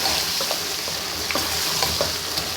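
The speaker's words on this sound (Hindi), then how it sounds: "मैंने कद्दू डाल के अच्छी तरह भून लिया गोश्त को।" Pieces of meat and pumpkin fry in a pan with a close, steady sizzle, while soft scraping and stirring taps sound at intervals.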